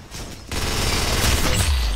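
Pump shotgun blasts in the Roblox game Arsenal, loud and close, with a rapid burst of firing building through the second half over a dense, continuous game soundscape.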